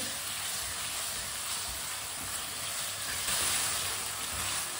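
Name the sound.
potatoes frying in a pan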